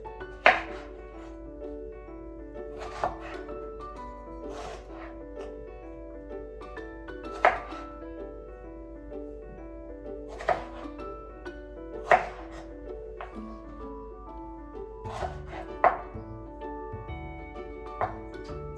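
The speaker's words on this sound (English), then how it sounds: "So we can go ahead and cut these into our fries." A knife chops pears into fry-shaped sticks on a cutting board: sharp, isolated knocks every two to three seconds, some doubled, in a quiet room with a faint steady hum underneath.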